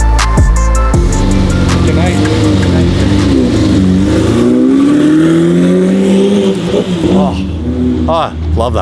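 A McLaren 720 GTR race build fires up and revs hard, its engine note sweeping up and down in loud, close pulls with a few sharp blips near the end.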